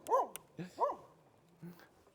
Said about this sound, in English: Look at the puppies.